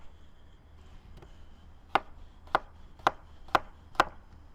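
A knife chops potatoes into big steakhouse-cut fries for poutine, five crisp, evenly spaced thuds on a cutting board, close and clear over quiet room noise.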